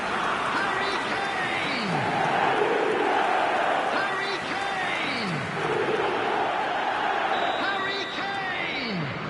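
A large stadium crowd roars and chants in an eFootball match, a steady wash of massed voices swelling in waves, with game commentary audible over it.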